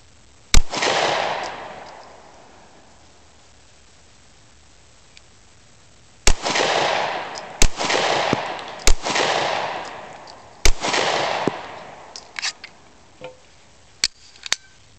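Pistol shots from a Glock 26 and a Kahr P380 fired at a target stand outdoors: sharp, loud single reports, a slow early shot then an irregular string of a dozen cracks with ringing tails, no talking.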